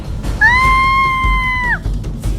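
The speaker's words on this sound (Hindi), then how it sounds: "उसके मुंह से एक गहरी चीख निकली" A woman in an animated horror story lets out a single sustained, high scream that holds steady for over a second before dropping off sharply, loud and close over a low rumbling background.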